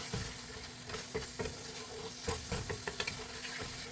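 Taco meat with seasoning stirred in a sizzling pan, a close, faint crackle under repeated scraping and tapping strokes of a utensil at an irregular rhythm, no talking.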